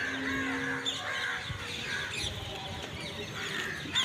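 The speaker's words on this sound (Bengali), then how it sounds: "এই দেখো এই পাশ থেকেও পাখিগুলো আসে" A flock of birds with crows cawing, repeated calls scattered across an outdoor scene over steady ambient noise at moderate distance.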